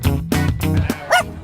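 Dogs at an outdoor pet social bark in a quick series of loud, close yips and barks, ending with a higher whimpering yelp, with no one talking.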